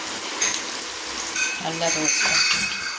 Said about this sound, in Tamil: இது இந்த மாதிரி எண்ணெயில் போட்டு நம்ம வறுத்தெடுத்துக்கிறோம்.